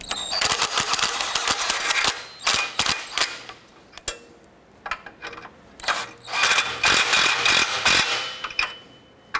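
A ratchet clicks rapidly in bursts, close and loud, pausing briefly between strokes as front catalytic converter bolts are tightened on a 2008-2012 Honda Accord.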